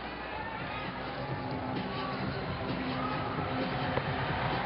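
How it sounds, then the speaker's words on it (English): A huge basketball arena crowd at the Big Dome during a Ginebra versus Alaska game roars as a dense, continuous wall of far-off babble and cheering, steady in level throughout. "In front of this mammoth crowd here at the Big Dome."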